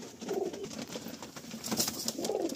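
Madrasi pigeons coo softly in a low, rolling murmur, two short bursts with a faint steady background and no talk.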